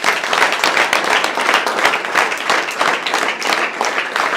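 A crowd of young attendees at a direct-selling network marketing event claps loudly and continuously. Thick, close applause pulses in waves for several seconds, with no voices rising above it.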